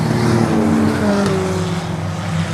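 Race cars battling for third place on a short oval track, with loud continuous engine roar and shifting drone of several cars close together, no talking.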